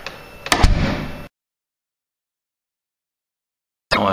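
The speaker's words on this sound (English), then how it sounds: "Let's close the door again." A door in a Scottish art museum toilet swings shut, ending in one loud, close thud and rattle, after which everything falls silent for a few seconds before more noise returns.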